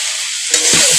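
Chichinga (snake gourd) curry is stirred in a pan, a scraping stir beginning midway over a steady hiss of frying, close and fairly loud.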